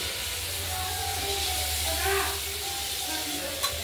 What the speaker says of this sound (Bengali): বারবার নেড়ে চেড়ে দেবো, আর ভাজা ভাজা হবে